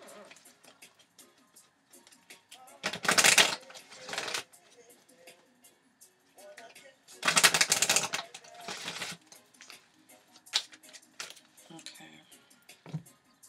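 Oracle cards shuffled and drawn during a March love tarot reading, with two loud bursts of riffling near the start and middle amid soft tapping and handling noises, and a voice talking faintly between them.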